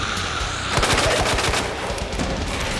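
Revolver gunfire in the Resident Evil 2 remake, a rapid run of loud, close shots with a dense rattling texture and no talk over it.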